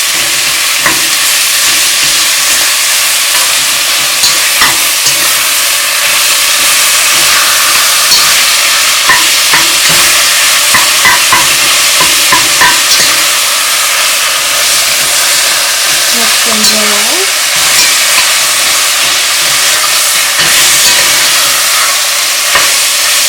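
Ground beef with browned onion fries in a pan, a steady loud sizzle and hiss running throughout with occasional scrapes and knocks from stirring.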